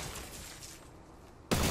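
Gunfire from the Apex Legends battle royale game on PS4, a brief loud burst of shots at the end of a short stretch of busy game noise.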